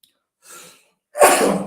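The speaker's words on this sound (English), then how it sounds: "Excuse me, I've got a sneeze." A quick inhale, then a loud, explosive sneeze right up close.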